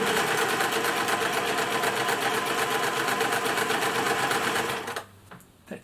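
A 1950s Singer 401A sewing machine runs at a steady fast whir with a busy mechanical chatter, not especially smooth, close and loud, then stops abruptly near the end, leaving a few faint clicks.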